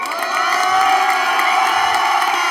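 A lively crowd cheers and whoops for the contestants of a dance battle, with a dense, sustained wall of shouting voices and high whistles filling the room at a steady level.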